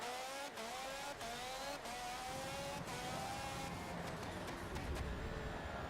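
A race car engine in Forza Motorsport 7 screams at high revs down a straight, a steady loud drone with a few quick gear-shift dips, heard on its own.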